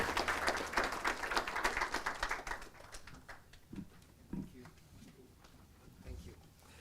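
An audience at an embassy event gives brisk, dense applause that thins out into scattered claps after about three seconds, and voices are heard under the clapping.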